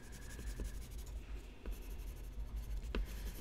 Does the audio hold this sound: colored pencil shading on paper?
yes